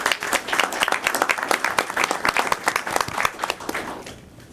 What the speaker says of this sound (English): Please give him a round of applause for being here.